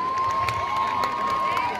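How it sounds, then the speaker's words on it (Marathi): A school audience cheers and claps for lavani dance performers at a public school, a steady dense crowd roar with shouting and applause throughout, under a thin sustained tone. "जोरदार टाळ्या आमच्या लावणी गर्ल्ससाठी"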